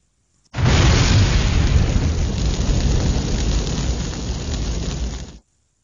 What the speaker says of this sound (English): So that's how the fire looks.